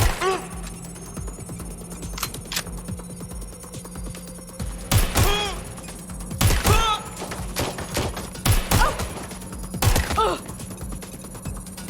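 Sharp gunshot bangs from the video game Watch Dogs: Legion ring out in scattered bursts over a steady low hum, some rapid and close together.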